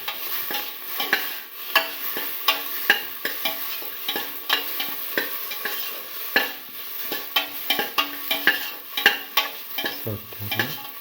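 Tomato pieces fry in a hot pan with a continuous close sizzle while a utensil stirs them, scraping and clinking in an irregular series of sharp taps.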